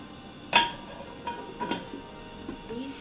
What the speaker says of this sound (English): And also I put this ladle onto this